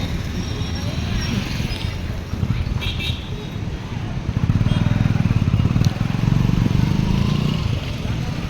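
A motorcycle engine idles and revs with a steady low rumble throughout, close by, with some background activity.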